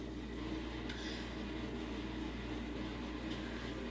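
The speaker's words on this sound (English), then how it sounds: "if you hear the noise in the background, that's just my dishwasher" A home dishwasher runs in the background as a faint, steady low hum that holds unchanged throughout, with no voices.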